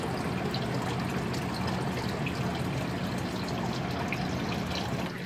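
Steady trickling and splashing water flows continuously through an indoor aquaponic system with no talking, a close, even burble throughout.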